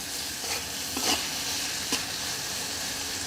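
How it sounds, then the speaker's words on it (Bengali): Chopped onion, garlic and green chilli fry in hot oil in a pan while being stirred, a steady sizzle broken by a few soft scraping stirs, moderately close. "এখন ভালো করে সব উপকরণগুলো নেড়ে মিশিয়ে নিচ্ছি।"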